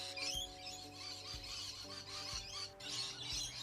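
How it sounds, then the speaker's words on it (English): Birds chirp and call steadily in the background near Lismore, Australia, with a few louder low thumps punctuating the outdoor ambience. "Just listen to these birds."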